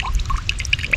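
Water poured out from a container of gathered clams on a tidal flat, a short splashy trickle with scattered bright droplet splashes over low background noise.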